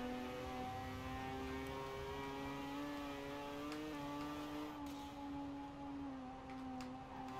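Mazda RX7 Spirit in the video game Forza Horizon 4, its rotary engine droning at sustained high revs with a slight dip midway, steady and fairly quiet with no voices.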